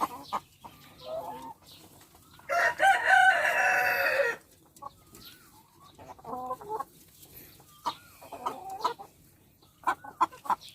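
Laying hens, a flock of about forty, cluck in short bursts, with a loud crow in the middle, several birds calling on and off close by.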